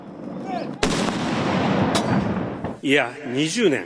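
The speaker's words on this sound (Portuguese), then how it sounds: "As cinzas de Abe chegaram ao ginásio em Tóquio ao som de uma salva de tiros." A sharp, loud ceremonial gun salute volley cracks out at a state funeral in a Tokyo hall, its rumble lingering under background noise before voices begin speaking near the end.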